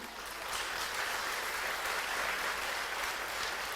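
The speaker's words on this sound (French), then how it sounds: "Ça, vous pouvez l'applaudir." Audience applause during a mayor's New Year greetings ceremony in Aulnay-sous-Bois, a steady wash of many hands clapping that swells slightly after the first half second and holds evenly to the end, with no voices over it.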